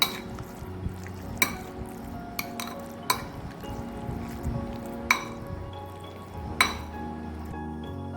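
Curd rice being stirred with salt in a bowl, a spoon scraping softly and clinking sharply against the rim at irregular intervals, close and clear with no voices.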